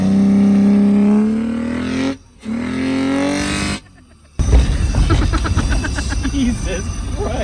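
A BMW car with twin leaf blowers fitted as a boost, engine droning and rising in pitch, cutting out briefly, then revving hard and roaring loudly up close.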